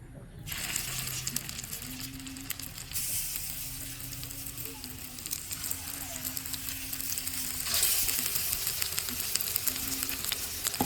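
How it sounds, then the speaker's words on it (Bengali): Egg chops sizzle steadily in hot oil in a frying pan, a continuous close, moderately loud crackling hiss with faint stirring and clinks, no talk. "তেল গরম হয়ে গেছে তো ডিমের চাপগুলো এবার এক এক করে ভেজে নেবো"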